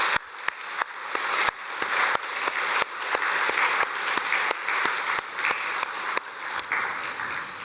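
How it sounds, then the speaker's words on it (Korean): Korean Sunday worship congregation, including the third-floor seats, clapping vigorously together; a sustained loud patter of many hands with sharp individual claps standing out throughout. "우리 3층에도 같이 옆에 분 바라보면서 힘차게 박수 한번 하도록"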